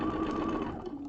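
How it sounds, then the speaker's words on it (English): Sewing machine stitching straight through the layers of a fabric hot pad, a close, steady whirring hum with a faint mechanical patter, running alone without talk. "Just stitch down, so I'm stitching all the way through"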